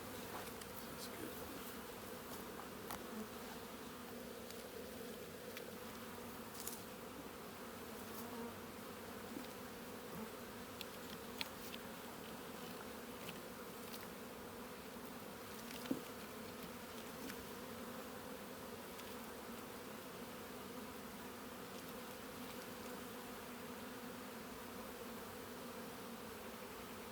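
Honey bees buzzing around a hive, a soft, steady, even drone that carries on without a break, with an occasional faint knock.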